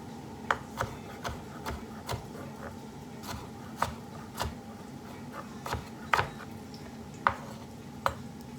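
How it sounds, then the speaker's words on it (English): A knife chopping tomatoes on a cutting board, with steady, evenly spaced sharp taps coming close and clear with little else around them. "just finely or semi-finely chop your tomatoes"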